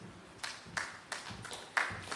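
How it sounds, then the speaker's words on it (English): A few scattered hand claps at a health research conference, sparse and fairly faint, arriving as separate irregular bursts rather than a full ovation. "Yes, clap them."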